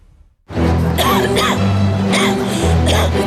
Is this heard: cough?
yes